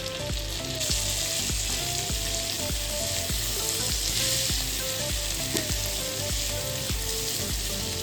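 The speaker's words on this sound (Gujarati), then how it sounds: "બટર થોડું મેલ્ટ થાય ને એટલે આપણે સમારેલું છે લસણ એને આપણે લઈ લઈશું અને ઝીણા ચોપ કરેલા કાંદાને પણ આપણે લઈ લઈશું" Chopped garlic and finely chopped onions fry in melted butter for a Mexican rice dish, giving a steady, close, loud sizzle with faint stirring scrapes throughout.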